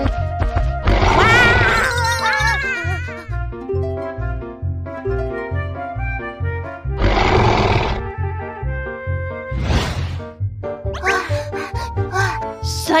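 Loud roars of a dinosaur model, rising and falling over a steady pulsing synthetic music bed, with several growling bursts spread across the passage.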